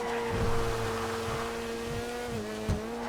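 A Sentinel Classic car in GTA V sliding through a corner, its engine holding a steady droning tone with low rumbles and a brief squeal near the end, close and continuous.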